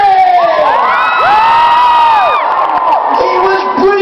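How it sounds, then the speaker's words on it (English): A large theatre audience at a Britain's Got Talent tour show cheers, whoops and shouts loudly and continuously, a dense crowd roar with rising calls throughout. "Let's have a big cheer"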